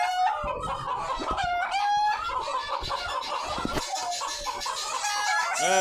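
A flock of chickens clucking and squawking continuously and loudly up close, with overlapping calls and a rising squawk near the end.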